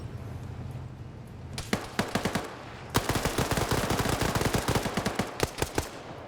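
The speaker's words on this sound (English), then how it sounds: "Now they're taking fire." Gunfire in a PvP multiplayer video game op: a few separated shots, then long rapid automatic bursts crackling loud and close, with a final cluster of shots near the end.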